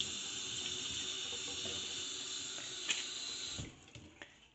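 Water from a kitchen tap runs in a steady broadband hiss onto an object held under the stream, then stops with a few drips and small knocks at the end.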